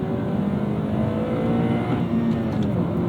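A 2010 Acura TSX with a K24 engine and six-speed manual revs out to about 7,200 rpm, a loud, sustained engine note rising steadily under load, with a faint tire squeal near the end.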